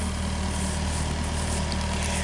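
A tractor idling at a pole barn building site, a loud, even low-pitched engine drone with a steady vibrating throb, heard close and alone.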